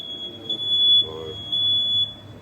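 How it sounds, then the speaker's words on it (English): A smoke alarm beeps loudly and continuously in a high shrill tone, with muffled talk and kitchen noise underneath. "set the smoke alarm off"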